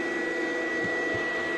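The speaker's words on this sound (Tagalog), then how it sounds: "Ayan o, vacuum." A household vacuum cleaner runs nearby with a steady, loud droning whine that does not change, with a couple of faint low knocks underneath and no talking.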